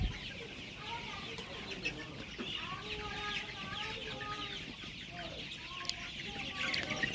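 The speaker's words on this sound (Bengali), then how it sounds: "অনেক চালাক মুরগিগুলো, কাছে গেলেই দৌড়াইতেছে সবাই।" Young golden Sonali chickens, about 25 to 26 days old, cluck steadily in a farm shed, with many birds clucking and chirping together at close range and no voices.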